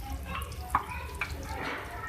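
Spoon stirring tinda gosht curry with chopped green coriander in a pan, soft wet scraping strokes with a light sizzle, faint and close.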